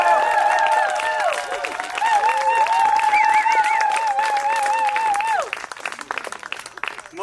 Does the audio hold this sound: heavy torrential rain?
no